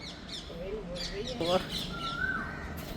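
An Asian koel calls in the morning, a rising whistled note at moderate distance, heard with other birds chirping and a voice speaking over the background.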